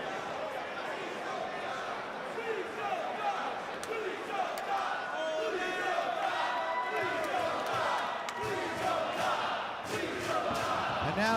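Constant crowd buzz fills a wrestling arena, a dense, loud murmur of many voices with scattered shouts and sharp impacts rising through it.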